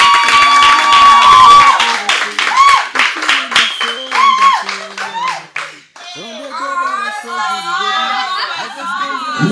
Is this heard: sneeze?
no